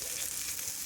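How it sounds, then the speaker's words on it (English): Potatoes and onion sizzle steadily in a hot pan for an Acadian-style beef fricassee, a close, continuous frying hiss with no voices. "I needed some room to fry these potatoes"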